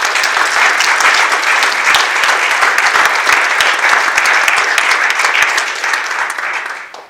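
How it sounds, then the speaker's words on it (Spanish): A church congregation applauds, dense sustained clapping from many hands filling the room, steady and loud before tapering off at the end. "¿Le puedes dar un aplauso al Señor?"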